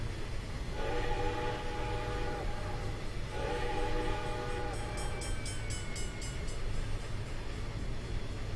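A Southern Pacific cab-forward steam locomotive in Train Simulator 2016 climbs Donner Pass, sounding two long whistle blasts over a steady rumbling run, followed by a stretch of lighter metallic clanking.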